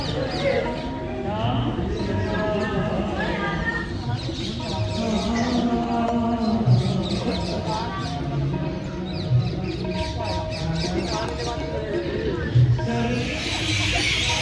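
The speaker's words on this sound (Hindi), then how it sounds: "चिड़ियों की आवाज़ सुना रही हूँ, तो ये कितने चिड़ियों का रैन बसेरा है, आवाज़ें सुनाई दे रही हैं।" Chickens and other birds clucking and calling continuously at a Gurudwara in Patiala, close and busy, with someone talking over them.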